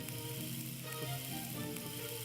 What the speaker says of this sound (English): it's starting to sizzle nicely there, getting a bit of cooking going on to those eggs